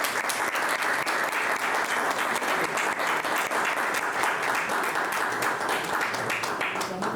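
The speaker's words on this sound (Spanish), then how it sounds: "Damos un aplauso" A hall audience gives sustained, full applause after a talk at a colloquium with Cardinal Kurt Koch in Valencia. Dense, even clapping fills the whole stretch with no break.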